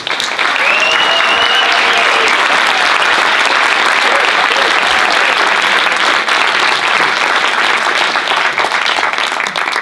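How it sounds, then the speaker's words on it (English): A conference audience applauds its speakers, a loud, sustained wash of many hands clapping that holds evenly for about ten seconds without any voices over it. "Let's have one more round of applause for our great speakers."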